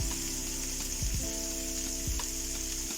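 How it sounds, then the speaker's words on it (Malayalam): Onions sizzle steadily in a hot pan for prawn spinach thoran, a continuous close frying hiss broken by a few soft knocks of stirring. "സവാള നന്നായിട്ടൊന്ന് മൂക്കട്ടെ"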